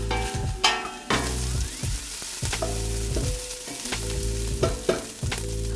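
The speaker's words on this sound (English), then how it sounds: "we just want to brown the onions" Onions sizzle and fry in a pan for minestrone soup, with repeated stirring scrapes and clanks punctuating a steady hiss, close and clear without talk.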